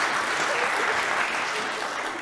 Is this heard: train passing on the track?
no